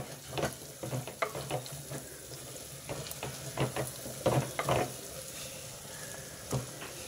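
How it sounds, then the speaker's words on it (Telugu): Chana dal and ginger paste fry in oil for a gongura curry, a continuous sizzle broken by repeated scraping stirs of a spatula against the pan, up close with no talking. "పప్పు చక్కగా వేగుతుంది."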